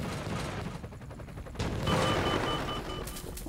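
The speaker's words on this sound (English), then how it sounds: "Explosions, explosions." Video game explosions and blasts from the puzzle game Donut County, a dense rumbling barrage of booms and crackles that swells louder midway and continues without speech.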